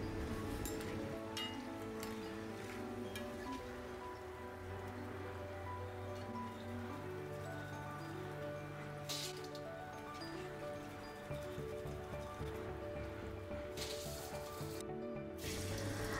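Chukkappam batter fries in hot oil with a steady, close crackling sizzle that stays even throughout, with a few sharper pops and spatters near the end.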